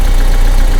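A 1991 BMW 318i E30 engine runs steadily, a loud, even idle with a low continuous drone close to the car, with no talk over it.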